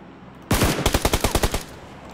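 A rapid automatic burst of gunfire in PUBG Lite, about nine sharp, evenly spaced shots in under a second, loud and close over a quiet game background.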